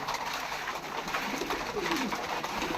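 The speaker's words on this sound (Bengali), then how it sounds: "একটা জায়েন্ট হুমা কবুতর" Soft, repeated coos from a male giant homer pigeon rise and fall close by over a steady background murmur, with no talking.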